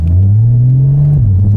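Porsche Boxster S 981 with its 315-horsepower engine, a steady loud low engine drone held near, the pitch dipping briefly near the end.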